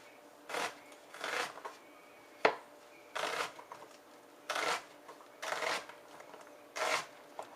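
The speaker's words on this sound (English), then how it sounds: "I'm just gonna dice up the onion." A knife dices an onion on a cutting board in short bursts of brisk chopping, about seven separate clusters with pauses between, close and fairly quiet, with no one talking.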